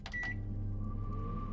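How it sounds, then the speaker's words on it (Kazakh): A microwave oven runs inside the horror video game Metel, giving a steady low hum with a faint higher whine, preceded by a couple of short beeps; close, continuous, and no talk over it. "Микроволновка пиқылдайтын бар екен ғой"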